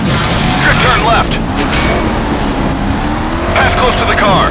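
A car in the Stuntman Ignition racing game drifts through turns, engine roaring with two bursts of tire squeal, as a director's voice calls out instructions over it.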